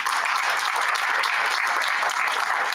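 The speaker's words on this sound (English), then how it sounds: "Let's give them a round of applause" A round of applause at a school board of education meeting honouring parents, dense and loud steady clapping from a roomful of people, sustained evenly throughout.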